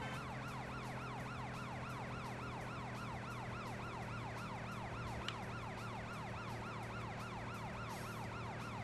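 Police car siren in the Driver 3 video game wails in a steady, rapid repeating yelp over constant engine and game noise, loud and unbroken, with no talking.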